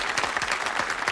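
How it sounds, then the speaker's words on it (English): Studio audience on the UK game show Bullseye applauds a contestant, a brief burst of close, busy clapping, with a voice briefly heard over it. "Jeff very sportingly applauding Dorothy there."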